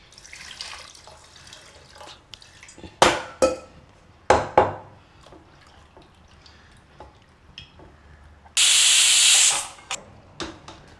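A loud burst of hissing steam from a pressure cooker whistle erupts for about a second and a half amid scattered kitchen clatter and bursts of running water, while cooking goat intestines.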